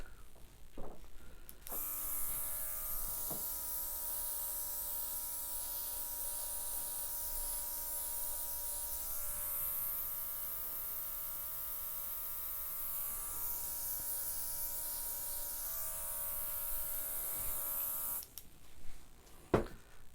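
A cordless airbrush hisses and whines steadily as it blows acrylic paint across a fluid-art flower pour, a near, continuous buzzing spray lasting about sixteen seconds before cutting off.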